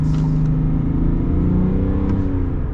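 A 2023 GMC Sierra 1500 Denali Ultimate pickup with a Duramax diesel accelerates hard, its loud, steady engine note rising in pitch from close by, with no talking.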